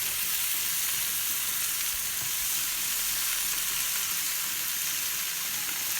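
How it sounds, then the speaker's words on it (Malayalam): Five or six mackerel frying in a pan, a loud continuous crackling sizzle with no pauses, close by and steady throughout. "അപ്പോൾ ഒരു 5-6 അയിലും കൂടിയിട്ടാണ് പൊരിക്കട്ടെ."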